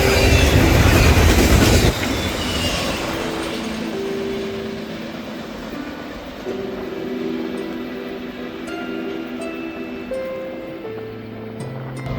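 Another eastbound intermodal freight train behind a GMD diesel locomotive roars by up close, its loudest burst fading after two seconds into a long rumble of passing cars with sustained wheel squeal tones.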